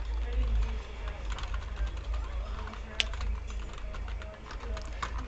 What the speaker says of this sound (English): typing in chat